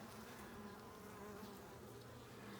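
A steady, dense buzz of many honey bees at an open hive during a colony inspection, continuous and even throughout, heard faintly at a distance.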